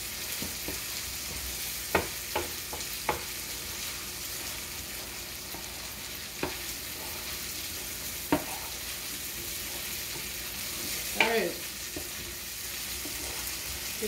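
Quiet, steady sizzle of ground beef frying in a pan, broken by a few sharp scrapes and clicks of a spoon stirring and chopping the meat, no talking.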